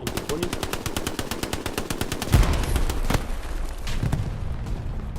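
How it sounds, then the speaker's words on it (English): Rapid automatic MP40 fire in Hell Let Loose, a World War II shooter: a fast rattling burst of shots, then a pause, a louder crack and scattered distant gunfire, with a voice talking over it. "Also trying his long range shooting with MP40."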